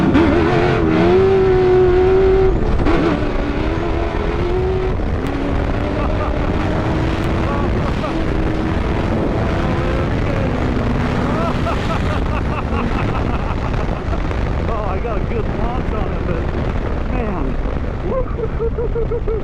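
Loud sandrail engines roar continuously close by in a drag race on the Glamis dunes, revving and shifting pitch as they accelerate, with wind noise across the microphone.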